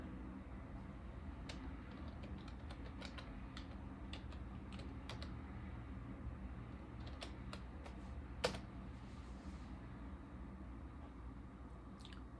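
Quiet keystrokes pressed out on a computer keyboard next to a Power Mac G5 Quad, a brief irregular burst of clicks with a single sharper tap over a low steady hum.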